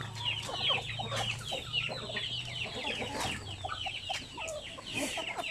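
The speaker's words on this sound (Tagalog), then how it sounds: "Mga sampin native chicken." Free-range native chickens, a Filipino sampin breed, cluck and chatter continuously in a busy flock, several birds calling over one another at close range with short sharp clucks and squawks and a low steady hum underneath.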